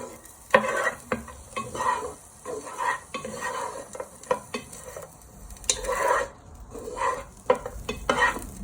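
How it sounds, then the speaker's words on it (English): Chorizo frying in oil in a pan, with a soft, steady sizzle under repeated scraping and clicking from a wooden spoon as it is stirred. "you add your chorizo and let them fry for a few minutes. Give them a little stir with your wooden spoon."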